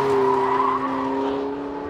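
A 2015 Porsche 918 Spyder is driven hard in full race mode with traction and stability control off, producing a loud, sustained high-revving engine howl that sweeps slightly in pitch, close up and without talk.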